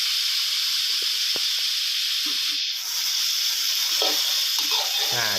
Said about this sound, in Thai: ค่อยๆผัดให้ไก่